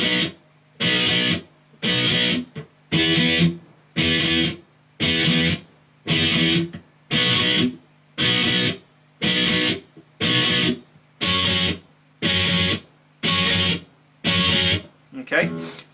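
Electric guitar plays verse B, a quiet section, as a steady run of about thirteen evenly spaced chord strums, each sustained briefly and then cut short, up close with no voices.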